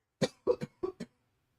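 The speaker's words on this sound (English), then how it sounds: "that first kind of cough to clear the throat." A few short, gruff throat-clearing coughs, close by, in quick bursts with brief pauses, trailing into silence.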